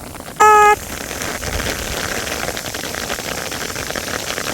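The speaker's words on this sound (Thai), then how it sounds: "ฝนตกฝนตก ฝนตกฝนตกบรรยากาศตอนนี้นะ" Steady rain hisses across an open rice field, a dense even patter throughout, briefly interrupted near the start by a short electronic beep.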